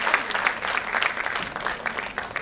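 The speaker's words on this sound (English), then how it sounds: "A huge round of applause for all of you." Steady audience applause at a school annual concert, a dense patter of many hands clapping at an even, fairly loud level throughout, with no voices standing out.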